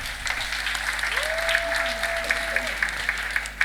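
Crowd at a Caritas archdiocesan pilgrimage applauding, a steady wash of clapping at moderate loudness running for several seconds, with a faint tonal whistle-like sound and background voices mixed in.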